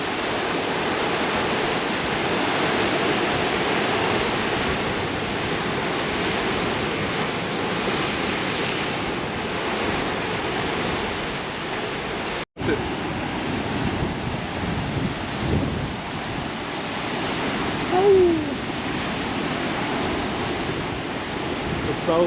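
Ocean blowholes in coastal rocks in South Australia produce a continuous roaring rush of surf and expelled air, heavy with wind buffeting. A stronger surge swells near the end.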